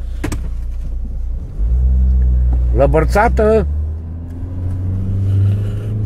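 An Audi car engine runs with a low steady rumble that swells as it revs, with people talking nearby over it.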